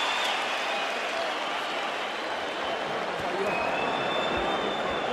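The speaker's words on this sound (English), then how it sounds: "And the crowd appreciates both." A boxing arena crowd applauds and cheers, a dense, loud wash of clapping and voices heard from a distance that stays steady for several seconds, with a commentator talking over it.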